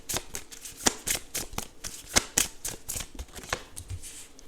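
Tarot cards shuffled by hand in a quick, uneven run of crisp riffling slaps and flutters, close and fairly quiet, with no talking.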